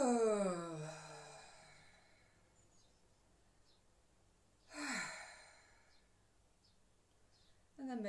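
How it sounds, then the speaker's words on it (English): A breath let out audibly during a calm breathing exercise for fear and anxiety, heard twice as soft airy sighs separated by quiet pauses, following an opening stretch of voiced sound. "breathing in and breathing out with a sound"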